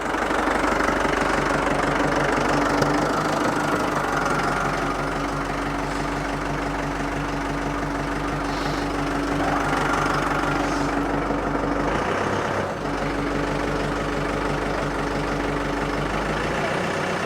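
The engine of a picker machine runs slowly at low revs, producing a continuous deep, knocking drone that stays steady and close for the whole stretch, with a brief dip near the end.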